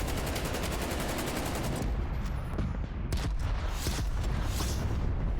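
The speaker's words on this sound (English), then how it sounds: "More artillery coming from Northwestern" Dense volleys of gunfire mixed with booming artillery strikes in a Call of Duty match, loud rapid crackling shots in continuous bursts layered over low thudding impacts, no voices.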